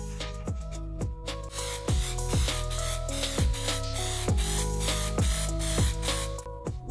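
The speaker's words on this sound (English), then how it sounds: "So I've got a spray can here" An aerosol spray can hissing in steady bursts onto a VW Polo GTI, with short clicking pauses between sprays, close and alone.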